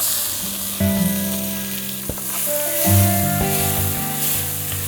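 Onions and tomatoes sautéing in a pan for Chettinad chicken curry, a steady sizzle close by mixed with clinks and scrapes of a spoon against the pan, and some ringing tones throughout.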